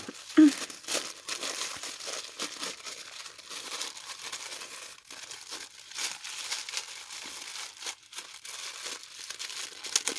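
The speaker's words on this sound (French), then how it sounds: "Je vais devoir déchirer." Paper wrapping on a tightly packed birthday parcel crinkles and tears in a steady run of rustling, crackling bursts, close and fairly loud throughout, with no voice over it.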